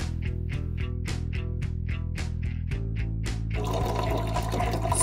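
Filtered water is poured into a glass at close range with a steady stream of trickling and splashing. The sound turns into a fuller, rushing fill near the end.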